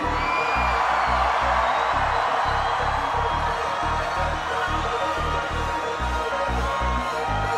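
Festival crowd at Reading screaming and cheering, a dense continuous roar with whoops rising above a pounding low rhythmic backdrop, loud and sustained throughout.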